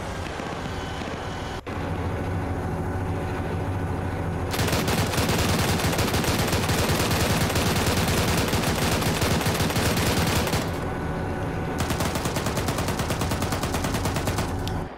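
Heavy automatic cannon fire from a BTR's 14.5 mm gun in a Black Hawk Down military shooter game, long unbroken roaring bursts at close range with a brief pause before a second sustained volley.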